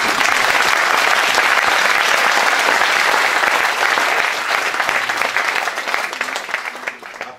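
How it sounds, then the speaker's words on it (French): A theatre festival audience breaks into sustained, loud, dense applause that holds steady for several seconds before thinning slightly toward the end, with no speech over it. "Je pense qu'on peut les applaudir aussi."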